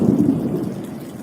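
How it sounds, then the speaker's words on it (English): Steady rain falls during a thunderstorm on the Arizona Trail's Blue Ridge Passage, heard as a continuous close hiss with a low rumbling undertone through the short stretch. "I am officially caught in my first thunderstorm, so it's raining."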